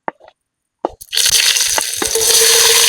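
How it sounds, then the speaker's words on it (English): Onions sizzling in a hot pan for braised chicken breast, a few soft clicks and plops before a loud, steady frying hiss sets in and continues to the end. "Now I'm going to add in the onion, and then I'm going to cook that for about a few minutes."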